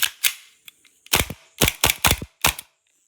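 An ASCEND KP1911 gas airsoft pistol fires in a series of sharp, loud cracking shots, some isolated and some in quick pairs, each followed by a brief rattle, with no talking.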